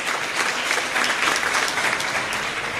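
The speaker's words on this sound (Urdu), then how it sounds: "زوردار تالیاں خدا کے جلال کے لیے۔" A church congregation claps loudly in sustained, even applause that fills the space throughout, with no voices rising above it.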